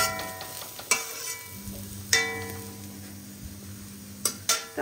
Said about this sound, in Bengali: দেখো একটু তেলটা বেশি হয়ে গেছে বলে গদগদ করছে